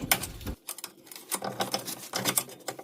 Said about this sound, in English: We'll pry this lower control arm out from the bolt joint right here.